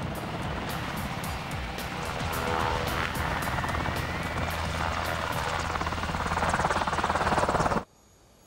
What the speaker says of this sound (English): This is the HH-60L, the latest version of the medevac Black Hawk helicopter.